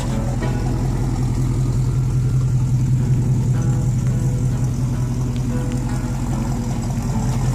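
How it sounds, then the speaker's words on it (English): A car engine runs steadily after a cold start, a loud, even mid-pitched drone with a constant low hum and slight roughness, holding for several seconds with no talk over it. "there's your cold start"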